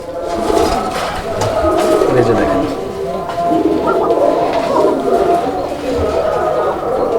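Domestic pigeons kept for sale in Bangladesh coo repeatedly in low throaty rolling calls, close and continuous, with someone speaking over them throughout.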